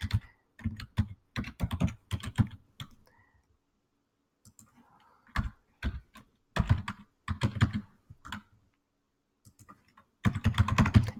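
Computer keyboard being typed on at close range, bursts of rapid clicking keystrokes broken by short pauses, with a few scattered single taps in the quieter stretch.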